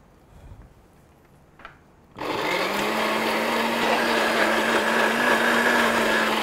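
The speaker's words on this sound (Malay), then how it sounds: "Awak blender dulu." An electric blender whirs into life after a few quiet seconds, running loud and steady with a constant motor drone while mixing ingredients for traditional Malay dishes in a home kitchen.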